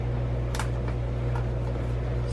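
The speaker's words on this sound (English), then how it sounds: "I hope y'all can hear me over my dryer." A clothes dryer running indoors gives a steady low hum and drone throughout, with a few brief clicks and rustles on top and no talking.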